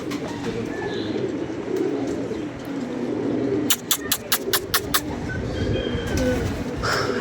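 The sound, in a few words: pigeons cooing as they land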